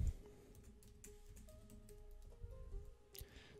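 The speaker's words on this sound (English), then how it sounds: "Gonna type MrBeast." Quiet tapping on a computer keyboard, a short run of light, irregular keystrokes with a slightly louder cluster near the end, heard alone without speech.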